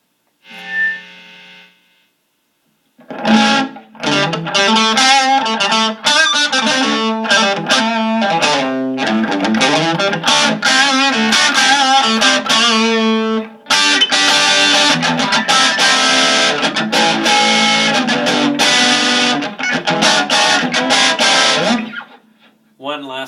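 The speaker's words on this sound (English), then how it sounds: "this one is specifically designed to create distortion. So that's why it's called gain." Heavily distorted electric guitar playing loud sustained chords and riffs through a driven amp, gritty and saturated, after a brief quiet note at the start.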